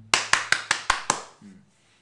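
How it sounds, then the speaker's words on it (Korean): Six sharp, evenly spaced claps ring out in a short burst, close and distinct, like a small group or single person clapping briefly at a stock market lecture, then fading to quiet with a faint murmur. "공개하신 분들에게는 박수 한번 나가겠습니다"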